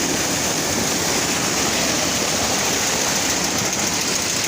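A tube well pump runs with water gushing out, a loud, constant broadband roar of flowing water and motor heard close up without pause.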